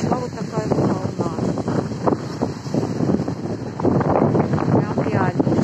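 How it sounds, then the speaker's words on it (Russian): Strong sea wind buffets the microphone as storm waves roll and crash at the start of a storm at Zaozernoye, Crimea, with a person talking throughout over the loud, gusty roar. "Поднялся ветер очень сильный. Пошла вот такая волна."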